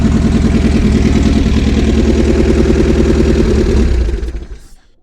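A used vehicle's engine, offered for sale with no exhaust fitted, idles loudly and steadily nearby with a rough, clattering pulse before the sound dies away at the end.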